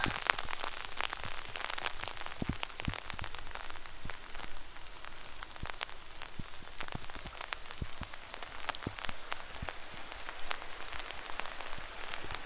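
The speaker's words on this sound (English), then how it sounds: "It is really raining." Heavy rain pours down steadily at a truck campsite, a dense hiss of drops with sharper pattering hits scattered throughout, nearby and unbroken.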